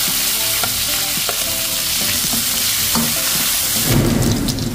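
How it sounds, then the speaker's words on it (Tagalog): Onion and garlic sautéing in hot cooking oil, a steady loud sizzle and frying hiss filling the clip with occasional stirring clinks, swelling briefly near the end. "Gisa na natin ang ating sibuyas. Saka bawang."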